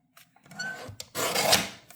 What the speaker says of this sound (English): I'm just going to cut it and get it out of the way.